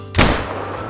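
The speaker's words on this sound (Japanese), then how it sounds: "獲物がいたら、横から肺を打つ" A single rifle shot is fired at a hunted animal in theHunter: Call of the Wild. One sharp, loud, close report is followed by a short fading tail.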